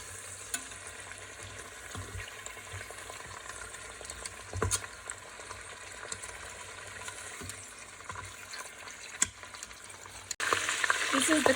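Lamb pieces fry in a pan for a kabseh with a steady, close sizzle, occasional stirring clinks, and a louder burst of crackling near the end.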